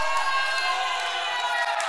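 A church congregation claps and shouts hallelujah for Jesus in a sustained, loud, dense roar of cheering voices and applause filling the whole moment without pause.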